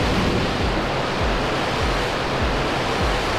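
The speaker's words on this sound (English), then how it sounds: "We got liftoff." Starship rocket engines roar at liftoff as a dense, continuous broadband rumble, loud and steady from start to end.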